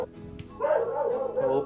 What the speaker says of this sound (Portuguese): Pete, para de latir, por favor.